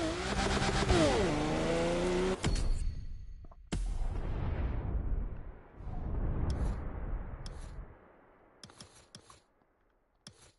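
Race car engines in The Crew Motorfest video game, a loud revving engine rising and shifting through gears, then cutting out to a rumbling tail, with a second burst of engine noise and a few faint clicks near the end.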